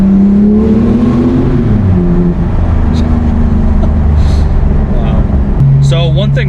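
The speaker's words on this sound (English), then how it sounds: "this flat 6 with the twin turbos definitely gives it a very, very unique exhaust tone" Porsche 2018 GT2 RS twin-turbo flat-six engine exhaust, a loud, sustained droning note that rises and shifts in pitch, heard from inside the car with someone talking over it the whole time.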